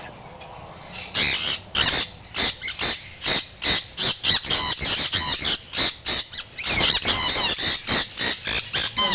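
Breeder sun conures in an outdoor aviary at a bird shop let out a rapid series of loud, harsh, piercing squawks, packed closely with short gaps, near and unaccompanied by talk.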